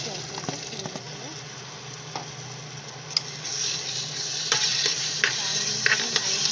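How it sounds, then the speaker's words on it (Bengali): Lentils for dal tipped a little at a time into hot spiced oil in a pan, giving a steady broad sizzle and frying hiss with scattered small crackles and ticks, close and continuous, no talking. "তার মশলায় তেল ছেড়ে এসছে দেখুন, আমি এখানে ডাল দিয়ে দিচ্ছি অল্প অল্প সুন্দর করে"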